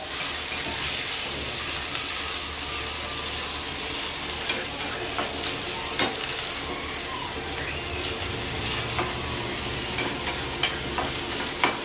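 Onion frying with garlic in a pan, a steady close hiss with occasional soft clicks of stirring and a low background hum, continuing without pause.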